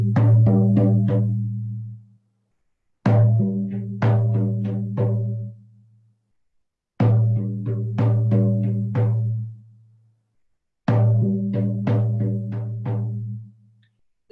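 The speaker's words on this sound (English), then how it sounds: "When the drum beat changes, and it sounds like this." A shamanic frame drum plays a changed beat marking the return from a journey: short bursts of rapid resonant strikes, each group lasting about two seconds, separated by brief silences and repeating four times, loud and close.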